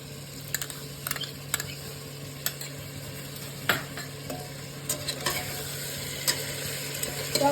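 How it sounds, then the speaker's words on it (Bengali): A spoon stirs yogurt into a chicken tehari mixture over low heat, with close scrapes and light knocks against the pan in an irregular rhythm over a faint steady sizzle, and no talking. "টক দইটা অ্যাড করে আমি এটাকে ভালো করে এটার সাথে মিক্স করে নেব।"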